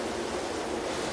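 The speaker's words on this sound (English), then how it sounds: "One of the pumps just kicked into action." Water pumps run beneath London Underground's South Kensington station, a dense steady rushing roar like heavy flowing water, loud and continuous with no speech.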